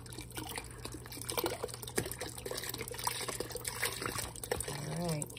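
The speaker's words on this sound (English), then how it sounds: "This is a 32 ounce beef broth stock." Beef broth stock from a 32-ounce carton pours into a soup pot for stuffed pepper soup, a steady liquid splashing and trickling close by for several seconds, with background noise throughout.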